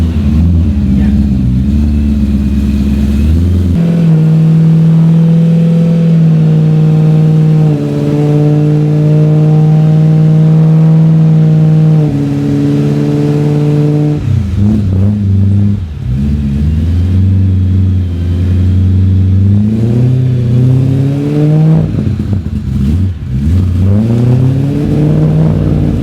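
BMW E30 M3 fitted with an S65 engine and K&N induction kit, revved on wheels jacked up off a ramp: loud, sustained revving that climbs and falls repeatedly, with throttle blips near the end.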